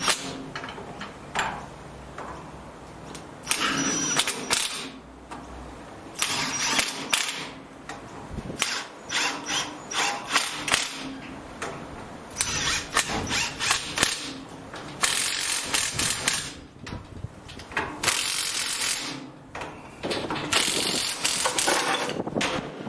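Air-powered tool run slowly on a light trailer wheel during bearing replacement, giving a steady ratcheting, mechanical whir with bursts of louder rapid clicking throughout, close and alone.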